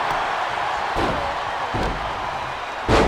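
Heavy body slams in the WWE 2K25 wrestling game, a few dull thuds over a steady crowd roar, with a bigger impact right at the end.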